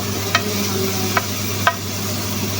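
Onion sautéing in a pan with a little salt, ahead of a garlic and ginger paste, gives a steady close sizzle with a few sharp stir clicks spaced across the stretch.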